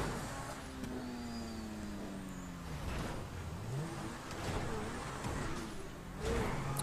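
Car engine in an off-road driving video game, a steady mid-pitched drone with gliding rev changes as the vehicle accelerates and shifts, some faint clunks over rough ground, fairly quiet throughout.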